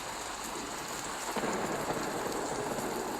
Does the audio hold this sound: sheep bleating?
no